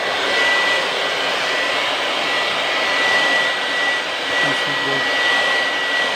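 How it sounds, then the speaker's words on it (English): A blower machine roars steadily as it cleans a split air conditioner's outdoor unit, a loud continuous broadband whoosh throughout with a faint steady whine, and brief talk underneath. "I am using blower also."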